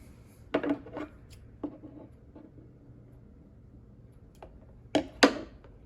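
Scissors trim back a potted plant, with several close, separate snipping and rustling bursts between quiet pauses.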